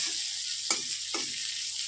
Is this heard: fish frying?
yes